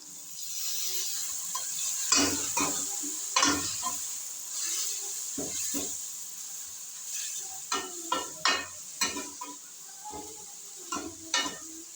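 Spices with turmeric and dried coriander powder fry in a pan after a splash of water, a steady hiss broken by repeated scraping strokes of a spoon, soft and close.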